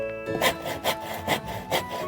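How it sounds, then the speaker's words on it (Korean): A hand saw cuts through wood in steady back-and-forth strokes, about five rasping pulls in two seconds, close and clear, indoors where a house is being built inside a building. "안에서 톱질 소리가 나는데 공사 중인가 봐요."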